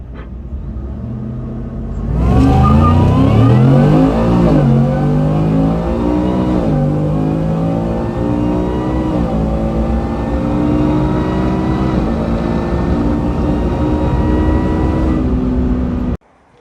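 A 2024 Ford F-150 pickup with a newly installed Magnuson 2650 supercharger roars as it launches hard, revs climbing through several gear shifts with a supercharger whine, then cuts off abruptly.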